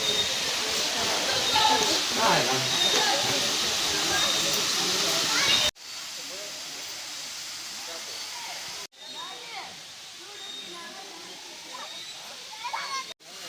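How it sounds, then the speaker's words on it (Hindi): Gandahati waterfall at Mahendragiri roars as a broad, constant hiss, with children's voices and chatter mixed in. The steady rush continues after abrupt cuts, a little quieter in later stretches. "गंडाहाती जलप्रपात यही वाटरफॉल"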